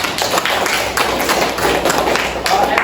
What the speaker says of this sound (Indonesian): sekali lagi tepuk tangan untuk kalian semua